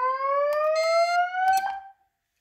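A fire alarm system sounds its voice-evacuation tone during a building test: a steady rising electronic whoop, loud and close, that repeats and then stops abruptly.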